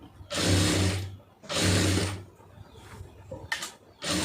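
A sewing machine stitches a round neckline on a garment in bursts, three loud whirring runs with short pauses, the last starting after a brief stutter.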